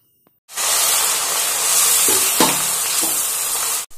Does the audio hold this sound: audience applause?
no